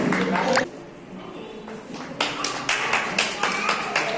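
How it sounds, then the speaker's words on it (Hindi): Applause from a crowd at a political gathering in Chhindwara, Madhya Pradesh, with a short burst at the start and a run of clapping in the final two seconds over background murmur. "तालियों से उत्साह।"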